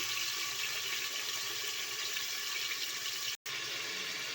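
Cut eggplant pieces fry in hot oil inside a pressure cooker, producing a loud, dense, continuous hiss that stays steady apart from one abrupt momentary dropout near the end.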